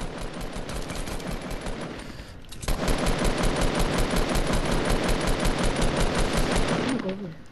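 Rapid automatic gunfire in Fortnite, a fast, evenly spaced stream of loud, close shots after a brief lull, continuing for several seconds before cutting off.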